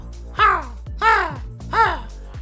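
A man imitates a crow with his voice, giving three loud, harsh, nasal caws in an even rhythm close to the listener.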